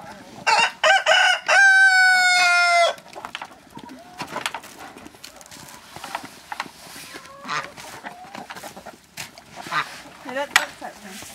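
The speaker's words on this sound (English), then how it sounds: "That little bird's stuck in there" A bird trapped under a snow-covered roof calls loudly in a few rapid, strained bursts, then falls to faint intermittent chirps while people talk nearby.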